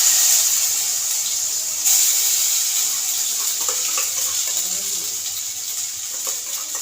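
A Bengali spice paste of ginger, garam masala, turmeric and coriander powder fried and stirred in a pan for chickpea dal, heard as a steady hiss that fades slightly over time, with no talking.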